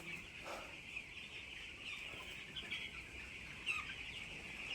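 Many chickens, about 5,000 on a poultry farm, cluck and chatter together in a continuous din, with occasional louder squawks standing out from the crowd.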